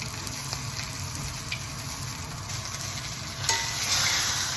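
A NY strip steak sizzles in a pan, a dense continuous crackle held at an even level, rising slightly near the end, heard up close with no talking.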